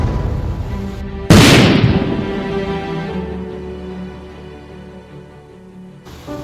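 A single loud explosion blast from a nuclear bomb erupts suddenly after a brief lead-in, then rolls into a long, low rumbling decay that fades over several seconds before another sound begins at the end.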